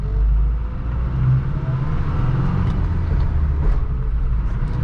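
A 1985 Toyota Pickup with a manual transmission rolls along smooth pavement, giving a steady, close low rumble of engine and road noise with no break and no voices.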